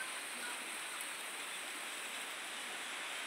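Steady outdoor rain falling in a village, a dense, even hiss that holds at a constant moderate level throughout with no voices.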